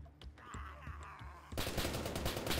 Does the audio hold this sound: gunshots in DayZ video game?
yes